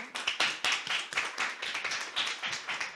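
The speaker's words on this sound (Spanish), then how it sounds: "Y así no le damos otro aplauso a Leonardo" Scattered, sparse applause from a small seminar audience, individual claps clearly separated and fairly quiet, rising and falling over a few seconds with no voices.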